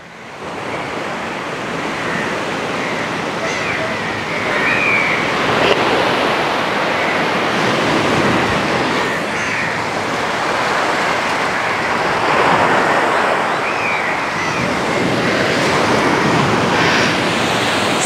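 Sea waves roll and break along the coast by Madh Fort, a continuous loud roar of surf with gentle swells in intensity and wind buffeting the microphone, no voices.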